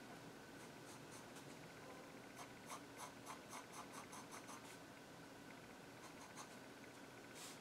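A graphite pencil sketches a linear still life on paper, giving a steady, soft scratching and rubbing texture with clusters of quicker short strokes, close and quiet, with no voices.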